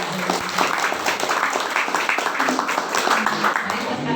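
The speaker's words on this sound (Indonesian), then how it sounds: "Ya, berikan tepuk tangan untuk Bapak." Audience applause at a village meeting where a village head candidate presents his platform, a steady patter of many hands clapping with voices murmuring underneath.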